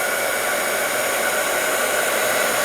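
A heat gun blows hot air to melt embossing powder on a handmade card, giving a steady, loud, continuous whooshing hiss with no pauses and no voices.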